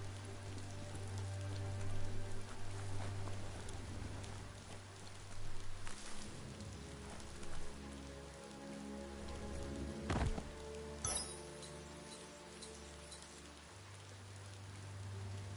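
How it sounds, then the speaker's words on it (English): Steady rain patters and hisses continuously inside a cave in the video game Biomutant, with a low hum underneath and a few sharper knocks and splashes scattered through. "I'm inside of a cave and it's raining in here."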